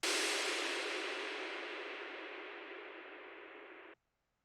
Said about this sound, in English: a impact, I guess, which I made by adding loads of reverb to a snare